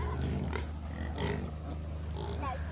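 A little pig grunts in low, rough bursts on a farm, close but fairly quiet over a steady background rumble.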